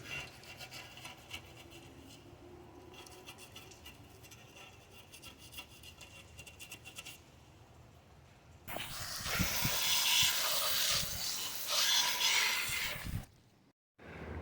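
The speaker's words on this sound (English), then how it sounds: "I got into this area around this cap using a bore brush. Basically, I just did this." A bore brush scrubs around the cap on an aluminum M56 valve cover for a BMW E46. A soft, close rubbing leads into louder, fast, harsh bristle scrubbing that stops abruptly near the end.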